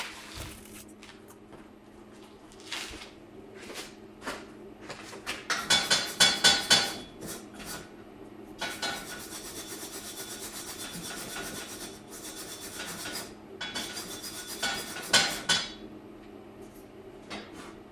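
A wire brush scrubbing a fresh stick electrode (MMA) weld on steel, rough rasping strokes in irregular bursts, louder in the middle and near the end, close and without talk.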